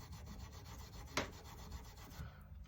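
Fine 4/0 steel wool brushes lightly back and forth over a fret on a cigar box guitar, a soft, faint, rhythmic scrubbing with one brief sharper scrape in the middle, and no voices.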